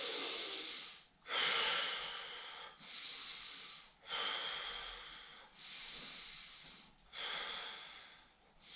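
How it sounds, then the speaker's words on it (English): Slow, deep breathing during a gentle Kundalini-style yoga stretch, six long airy breaths in a steady rhythm with brief pauses between them, close and fairly soft. "Take about 3 to 5 deep breaths."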